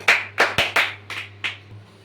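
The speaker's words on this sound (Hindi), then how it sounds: "ताली बजावा" A few people clap their hands during a Ramayana recitation, giving six sharp, separate claps in quick, slightly uneven succession, close and fairly loud over a low steady hum.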